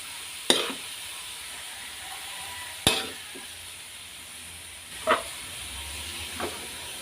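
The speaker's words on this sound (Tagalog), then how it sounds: "Gisa po natin yung puso." Banana heart sautéing in a pan in a home kitchen in the Philippines, with a steady soft sizzle and hiss, broken by four sharp clatters of stirring spaced a couple of seconds apart.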